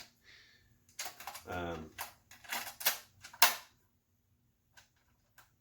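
An old VCR ejects a video tape with a cluster of close mechanical clicks, a short whirring clatter and a final clunk. A voice speaks briefly nearby.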